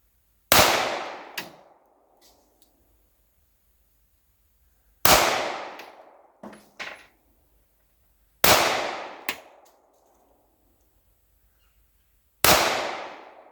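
Four sharp, loud gunshots from a SCCY CPX2 9mm semi-auto handgun fired outdoors at a wood target, spaced about four seconds apart, each followed by a brief ringing decay and a faint clink of a spent casing, with no talk.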